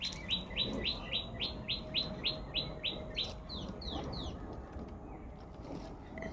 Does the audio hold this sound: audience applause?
no